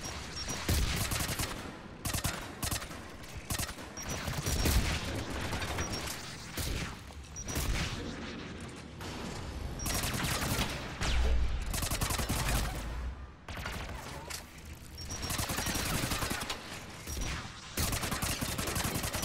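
Rapid gunfire from a weapon in the video game Mass Effect 3, with dense, sustained bursts of shots and impacts that run almost continuously, loud and close, with no talking.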